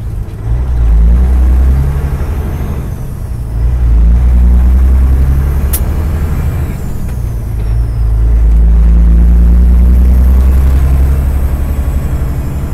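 Semi truck engine heard from inside the cab while the driver works through gears, a loud, deep, steady rumble that dips briefly between shifts and swells again, with no one talking.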